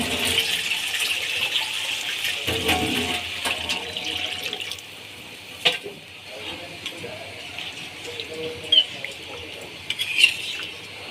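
Water pours into braising chicken in a cooking pot, giving a steady rushing splash with a hissing sizzle that rises and settles, plus a few scattered clinks toward the end.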